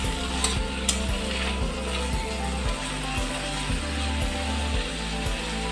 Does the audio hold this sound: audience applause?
no